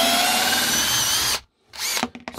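Bosch GRS cordless drill-driver spun up at top speed, a loud, steady high-pitched whine that cuts off abruptly, followed by short restarting bursts of the motor, close by with no voices.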